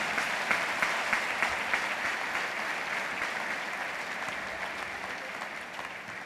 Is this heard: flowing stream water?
no